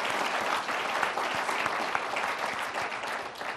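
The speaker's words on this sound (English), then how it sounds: "Can we have a round of applause for all of these people that do such a great job?" Sustained audience applause at an evening talk for volunteer docents, dense and even clapping from a sizable crowd that holds steady throughout.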